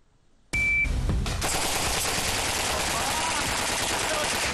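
A submachine gun, a Sterling MK4 or MP7A1, fires at targets in a walled shooting course. A brief beep sounds after silence, then a loud, sustained rapid burst of gunfire follows, with voices faintly under it.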